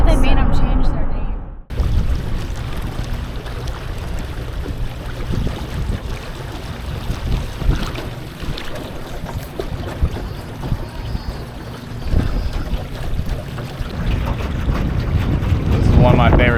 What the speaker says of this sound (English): Right up here, it's just so windy.